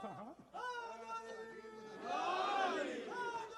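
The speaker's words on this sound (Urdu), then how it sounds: "تو بھائی تھوڑا سا اتنے نعرے تو لگائیں جن کے لیے ہم نے سبحان اللہ الحمدللہ کہا ہے" A crowd at a religious gathering celebrating Milad-us-Sadiqain and Eid-e-Zahra chants slogans in unison, a swelling chorus of many voices rising loudly, then easing after a single leading call.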